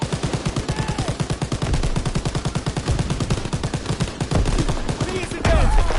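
Call of Duty WW2 battle gunfire rattles in a fast, loud stream of machine-gun bursts, near and continuous, with scattered single shots and a heavier crack toward the end.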